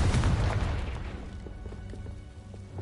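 A Confringo fire spell explodes in Hogwarts Legacy, a loud booming blast up front that rolls off into a fading rumble over a couple of seconds.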